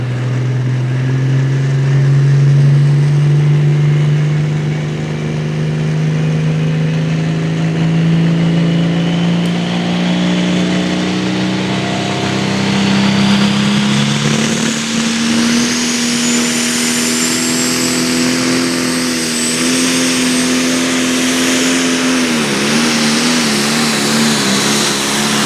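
A 4,000 horsepower pulling truck roars loud and close down the track, its engine note climbing steadily as it accelerates, a sustained thunderous drone.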